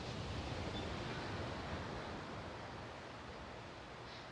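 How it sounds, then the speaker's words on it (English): Soft, steady ocean surf wash during a beach yoga class, faint and continuous like distant waves, with no talking. "Tuning into the sound of the ocean."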